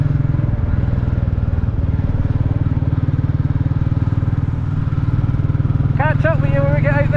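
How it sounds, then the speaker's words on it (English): A Royal Enfield Classic 350 motorcycle thumps along in a steady low, rhythmic engine beat throughout while being ridden, with a brief clatter and a short tonal squeal near the end. "give the bike a run"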